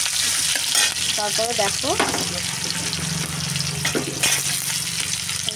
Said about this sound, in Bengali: কড়াতে তেল দিয়ে দিলাম। আমি এবার পেঁয়াজ দিয়ে দেবো।